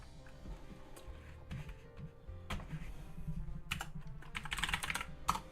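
Keys clatter on a computer keyboard in irregular bursts of quick taps, close and fairly quiet, with a few louder single presses near the end.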